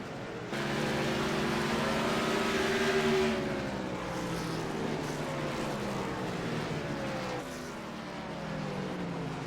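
Race cars lap in a Sprint Cup Series sim racing game, a continuous engine drone whose pitch sweeps as the cars pass, steady and fairly loud with no voices.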